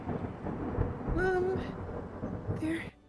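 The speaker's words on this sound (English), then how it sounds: "There's a loud thunderclap and then the sound of someone falling over." A loud thunderclap rolls through a rainy scene in a horror-tinged video game, a heavy low rumble filling most of the clip, with brief tonal voice-like sounds over it before it cuts off abruptly.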